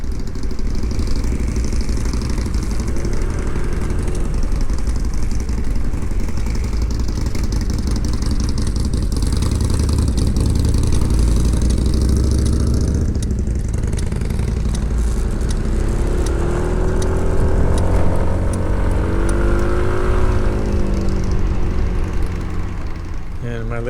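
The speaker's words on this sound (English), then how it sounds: "Love the sound of that Harley." A Harley-Davidson motorcycle rumbles on a curvy mountain road near Malibu Lagoon, a loud, low, throbbing engine drone under heavy wind noise that rises in pitch as it revs.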